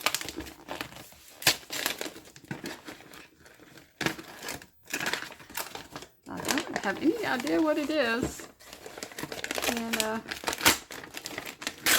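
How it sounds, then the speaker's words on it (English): Wrapping paper crinkles and rustles close by in bursts while a person unwraps it, talking and exclaiming over it, the crackling loud and sharp near the mic. "I really apologize for the noise in the paper"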